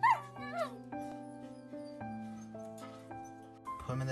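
Newborn Shiba Inu puppies nursing let out thin, high whimpers and whines, a few soft, drawn-out cries close by in a quiet setting.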